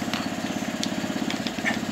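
A Bernard W19A small stationary engine, old and being brought back into running order, runs steadily up close with an even, rapid thudding beat and no voices.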